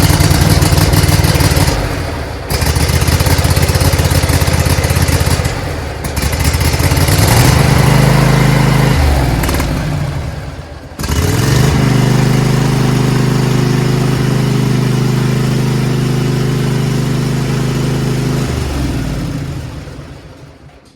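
A Husqvarna lawn tractor mower, freshly fitted with anti-scalp wheels, runs close by with a loud, steady engine drone that dips briefly a few times and then holds an even idle-like hum, with no voices.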